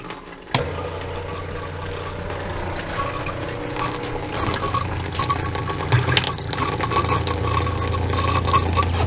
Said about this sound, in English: Gotta turn the pump back on.